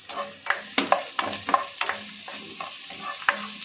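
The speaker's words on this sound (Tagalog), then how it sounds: "Ngayon po ay magigisa na tayo." Garlic sautés in about a spoonful of oil, with a light close sizzle broken by regular spatula strokes and scrapes against the pan.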